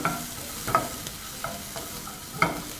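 A wooden spoon stirs beef stroganoff in a sizzling pan, with soft scraping knocks every half second or so over a steady frying hiss.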